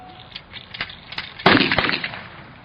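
An artillery gun firing during a range-finding drill, heard as a sharp loud blast near the middle of the clip with a quick follow-up crack, preceded by fainter scattered knocks.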